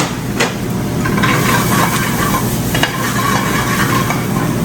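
Garlic and capers sizzling in a hot pan while being stirred, a steady loud frying hiss with occasional scraping and clinks of the utensil against the pan, no talking.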